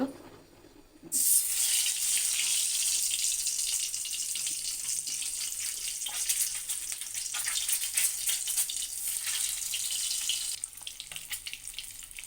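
Eggs dropped into hot oil in a kadai for egg bhuna burst into a loud, sudden sizzle after a quiet moment, then keep crackling and hissing steadily up close.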